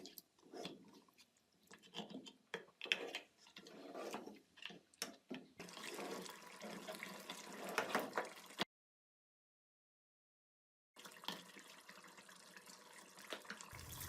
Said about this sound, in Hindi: इसमें पानी डाल लें और इसको पकने के लिए रख दें।